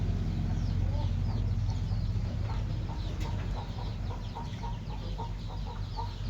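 A mother hen with about ten chicks clucks repeatedly at a steady pace, the calls close and fairly loud over a constant low background hum, with no voices.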